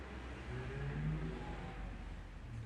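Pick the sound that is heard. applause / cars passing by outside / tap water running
cars passing by outside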